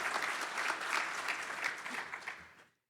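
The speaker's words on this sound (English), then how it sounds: "See, I gotta keep that clapping to a minimum." An audience at a fundraising breakfast applauds steadily for a few seconds, a dense wash of clapping that fades out abruptly at the end.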